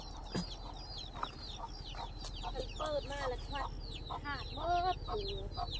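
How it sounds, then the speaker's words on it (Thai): Chickens clucking around a rural Thai farmhouse, a flock of several birds giving repeated short clucks and chatter at close to moderate distance, fairly quiet overall with low background hum. "ไก่น้อย"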